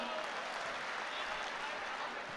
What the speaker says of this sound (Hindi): जरा सा तालियां बजाइए इनके लिए